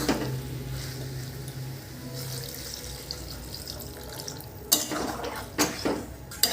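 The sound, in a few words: pouring a little water into the pan of curry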